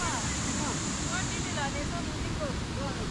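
Water rushes steadily near Parbati Kunda in Gatlang, Rasuwa, a constant broadband wash heard close by with no breaks.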